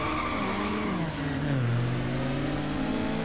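A car engine in Need for Speed Underground, a low-powered sport compact of roughly 200 horsepower, over-revving in a race: a loud sustained whine whose pitch drops and then holds steady near the limiter.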